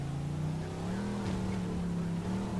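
A car in the video game Mafia 2 runs with a steady engine hum, pitch shifting slightly as it slides and drifts, with no talking over it.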